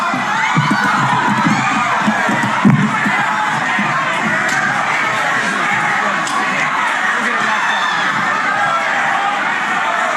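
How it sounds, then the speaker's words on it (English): A large crowd at a Donald Trump rally screams and shouts as a man rushes the stage, a loud, sustained roar of many voices with sharper yells rising out of it. "So you can hear the screaming."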